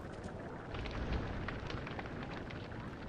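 Trees burning in the game Don't Starve Together make a steady, dense crackling fire roar with scattered pops, loud and continuous throughout.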